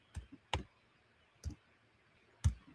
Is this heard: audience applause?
no